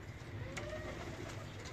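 Teddy pigeons give soft, low cooing close by over a steady background hum, brief and fairly faint.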